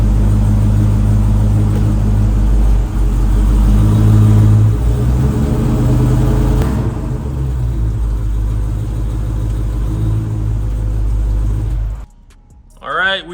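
A supercharged engine fitted with a 3.8 Whipple blower runs loud and close with a deep steady rumble that swells and eases, then cuts off near the end, leaving brief quiet and a short sound.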